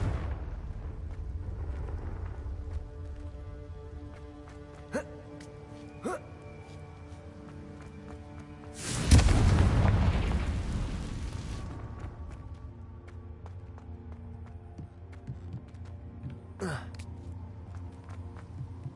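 A Confringo fire-blast spell from Hogwarts Legacy bursts at mid-clip in a single loud, roaring explosion that tails off over a few seconds against quiet game ambience, with a few faint thuds around it.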